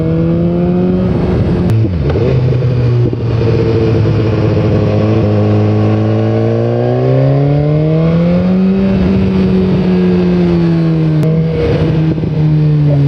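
A BMW S1000R motorcycle's inline engine revs hard and loud on a test ride, its pitch climbing, dipping and rising again as the throttle is worked, with steady wind and road roar underneath.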